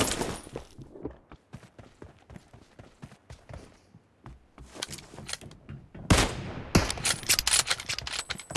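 Gunfire in the PUBG Mobile team deathmatch game: rapid, crisp shots, sparse and fairly quiet at first, then denser and louder bursts near the end, with no talking.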